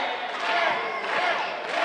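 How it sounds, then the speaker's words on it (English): A wrestling crowd at an independent show chants for Jet Royal, a steady, loud roar of massed voices filling the arena throughout. "Why is this crowd chanting Jet?"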